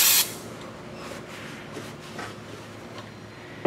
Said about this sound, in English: I'm gonna try with some carb spray here.